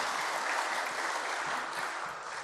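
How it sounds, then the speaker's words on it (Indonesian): Audience applause at a church synod opening ceremony, a dense, even wash of clapping from a large crowd, sustained throughout without voices. "Tepuk tangan dulu untuk kita semua."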